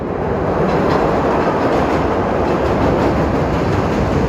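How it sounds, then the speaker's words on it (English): A train passes by at night, filling the clip with a loud, continuous rumble and clatter of wheels on rails that stays steady and close throughout. No one speaks. "Train passing by."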